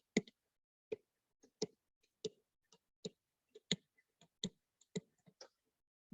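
Sharp, separate plastic calculator key clicks tapped at an uneven pace, about a dozen presses in quiet surroundings.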